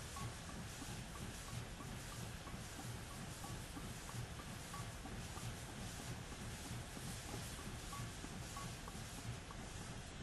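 Train Simulator freight train on the Monongahela Railway creeping at 10 mph through West Brownsville with a caboose, a steady low rumble and hiss with faint rhythmic rail clicks, continuous and alone.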